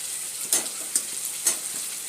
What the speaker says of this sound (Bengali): আলুগুলো দিয়ে দিলাম, এগুলো তো সেদ্ধ হবে। বেশি ফ্রাই হলে একটু ভালো লাগে